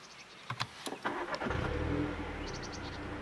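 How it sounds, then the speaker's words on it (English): A few mechanical clicks and a chime, then a MINI Cooper S 3-door hatch (F56) engine cranks and catches, settling into a steady idle. "So let's start the car."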